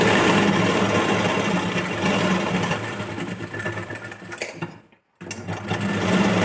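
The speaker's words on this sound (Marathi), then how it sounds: "आता आपल्याला 1/2 इंचाच्या अंतरावर एक स्टिच करून घ्यायची" A sewing machine runs a steady, continuous stitch along a half-inch shoulder seam of a princess-cut boat-neck blouse, loud and close, pausing briefly near the end before starting up again.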